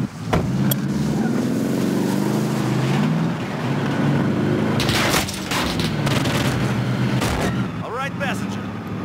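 Vehicle engine from a Call of Duty Warzone match, droning steadily throughout with rumbling bursts and gameplay effects layered over it.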